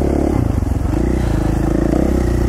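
A dirt bike engine on a single-track trail in Idaho drones loud and close, with uneven throttle pulses and rattling clatter from the rough terrain.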